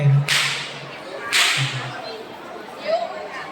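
A wooden paddle, a fire beater used for fighting forest fires, gives two sharp slaps in a short burst, close and loud, outdoors at a demonstration.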